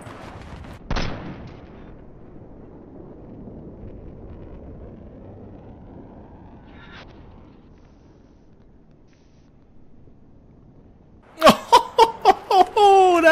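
A single sniper rifle shot in the video game Battlefield 3 cracks sharply near the start, followed by a faint distant report and quiet wind, then voices break in at the end.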